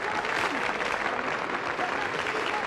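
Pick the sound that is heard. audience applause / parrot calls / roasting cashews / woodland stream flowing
audience applause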